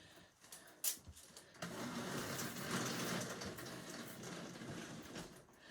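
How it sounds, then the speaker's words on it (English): A window blind is lowered indoors, giving a steady, fairly quiet rattling whir for several seconds after a brief knock near the start, with no talk. "I'm just going to drop the blind again. Apologies for the noise."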